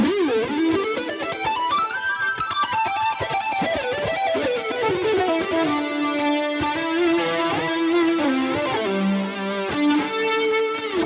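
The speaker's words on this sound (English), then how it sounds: "With the tone knob still open, it still sounds like a guitar" An electric guitar with its tone knob fully open plays a flowing melodic line with a bright, full tone, fast notes bending and sustaining, alone without voices.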